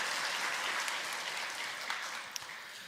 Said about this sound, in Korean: 위로와 격려의 박수를 보내시면 감사하겠습니다